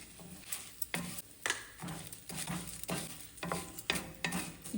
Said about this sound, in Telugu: 1 నిమిషం వేగిన తర్వాత మెంతులను జీలకర్ర కూడా వేసేసానండి. నువ్వుపప్పు కూడా వేస్తున్నాను.